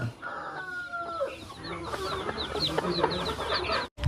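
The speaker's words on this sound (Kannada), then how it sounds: "ಈ ರೀತಿ ಒರಿಜಿನಲ್ ನಾಟಿ ಕೋಳಿ ಮರಿಗಳು" Native country chickens and chicks (nati koli) on a farm cluck and peep in quick overlapping bursts, close and busy, with a rooster-like call early on.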